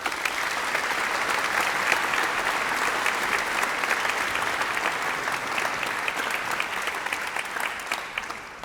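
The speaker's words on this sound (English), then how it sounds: "Can you please put your hands together in a very warm round of applause for the music support group?" Warm, sustained applause from an audience at a community concert, a dense steady wash of many hands clapping for a music support group, continuing at an even level with no talk over it.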